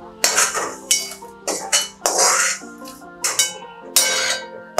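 Metal spoon scraping and clinking against a pan while toasted coconut is scooped out, a series of about ten sharp clanks and scrapes in an uneven rhythm, close and fairly loud with no talk.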